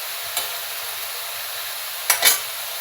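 Poha and vegetables being stirred in a frying pan for Bengali chirer polao: a constant soft sizzle underlies a couple of quick scraping strokes of a spatula, one early and a louder double stroke near the end.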